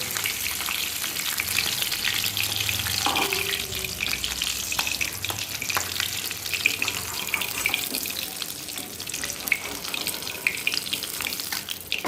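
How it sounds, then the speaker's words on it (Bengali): Rohu fish pieces fry until reddened in hot oil. A strong, unbroken crackling sizzle stays close and steady throughout, with a few faint clinks underneath and no voices. "মাছটাকে লাল করে ফ্রাই করব, তারপরে মাছটাকে এক এক করে তুলব।"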